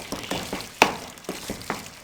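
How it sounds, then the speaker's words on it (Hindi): Sabooni mixture roasting over a low flame while a spoon stirs it, giving soft sizzling with a series of light scraping taps at an uneven rhythm and one sharper clink. "लो फ्लेम पे हम इसको भून लेंगे"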